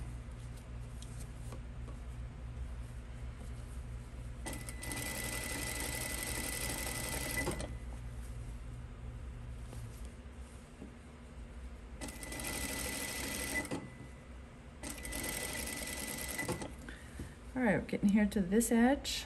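A sewing machine stitches the side seams of cotton pajama shorts in several close bursts with pauses between them, while someone talks quietly over parts of the stitching.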